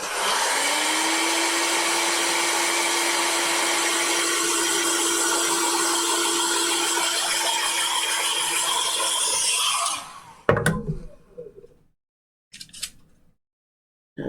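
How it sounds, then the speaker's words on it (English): A hair dryer blows steadily on wet paint on a wreath sketch, a loud continuous whir with a faint whine that runs alone for about ten seconds, then cuts off, followed by a few brief handling clatters. "Blow dry this a little bit."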